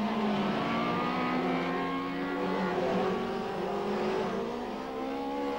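BMW saloon race cars of the 1989 British Touring Car Championship lapping Donington circuit, engines droning and revving with shifting pitch, loud and continuous, blended with commentary and crowd.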